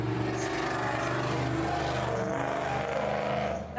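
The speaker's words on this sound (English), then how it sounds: "that was a very loud truck that just went by" A loud truck roars past on a street in historic Old Town Manassas, Virginia, its heavy engine rumble filling the whole stretch and easing off at the end, with no talk.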